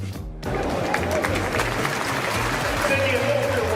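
Basketball arena crowd roaring steadily for Gavin Marshall during a college game, a dense wash of cheering and applause that swells in after a brief quiet moment and holds loud throughout.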